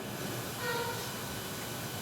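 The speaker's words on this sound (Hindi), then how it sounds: "हमारी ट्रेन पहले हॉल्ट सिहोरा रोड से निकल रही है।" The Shaktipunj Express passenger train on the Jabalpur–Howrah route pulls out of Sihora Road station with a steady rumbling roar and hiss, a faint tonal whine rising briefly from the continuous moving-train noise.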